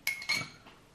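A utensil clinks twice against a bowl while mixing ingredients for cornes de gazelle pastry, two quick metallic taps close up, then a faint scrape.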